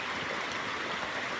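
Water from a nearby river flows steadily down a small stream, a close, continuous rushing wash without pauses or voices.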